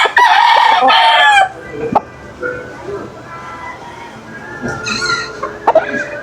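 A gamecock crows loudly and close, one long harmonic call at the start, followed by a few shorter clucks and a second, fainter crow near the end, with faint background noise.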